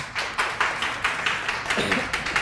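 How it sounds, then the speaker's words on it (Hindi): A class audience claps for a teacher at a NEET coaching session, sounding as a steady run of sharp, close claps in a regular rhythm with no voices. "सर के लिए एक बार यार तालियां हो जाए"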